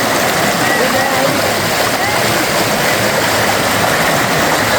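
A waterfall on the Guaxinduba river at Canta Galo roars in a dense, steady rush of falling and splashing water, loud and continuous throughout.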